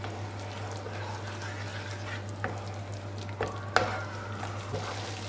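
Tomato sauce for beyti kebab simmering in a pan: a gentle, continuous bubbling and frying hiss over a steady low hum, with a few light scrapes and taps as it is stirred.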